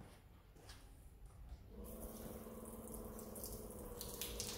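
Water poured over a waxed car surface, Soft99 Kiwami or Authentic Premium Carnauba, in a beading test: a quiet hiss at first, then a steady close rush of flowing, splashing water that continues to the end, with no voices.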